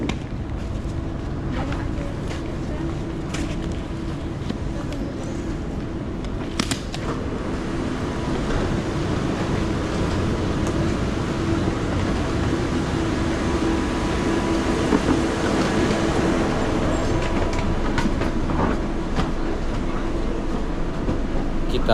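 Steady, loud rumble and hum inside the moving KLIA Express airport train in Malaysia, with faint rattles and clicks over a continuous low drone.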